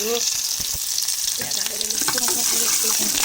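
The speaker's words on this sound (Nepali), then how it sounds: "तेल चाहिँ तातिसकेको छ साथीहरू। अब म प्याज हाल्छु।" Onion added to hot oil sizzles with a bright, steady hiss, while a person speaks briefly over the frying and a few soft knocks sound from the pan.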